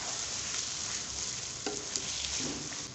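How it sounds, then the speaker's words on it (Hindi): Marinated mutton masala for dum ka gosht stir-frying in a pot over a low flame, a steady close sizzle with a few scraping stirs and clinks, no voices. "इसको अच्छी तरह से भून लेंगे"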